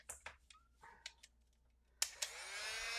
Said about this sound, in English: let me let's blow dry it